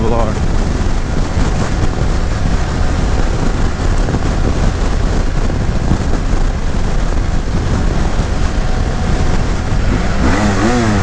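A 2018 BMW F 800 GS adventure motorcycle rides along a bumpy back road, its engine and heavy wind rush roaring steadily and loudly under a rider's voice.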